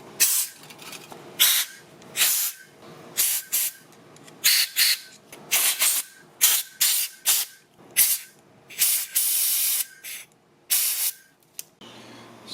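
Repeated short bursts of compressed air hissing and spraying through the carburetor passages of a Toro lawn mower, about a dozen blasts in an uneven rhythm, loud and close.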